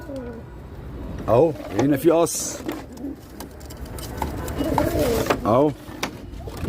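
Pigeons in a loft give several rolling, throaty coos, loud and close, in short bursts across the clip while someone talks throughout.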